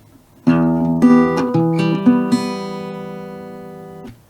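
Acoustic guitar second and fourth strings plucked together, a few ringing two-note chords struck one after another and left to sustain and fade, clear and close.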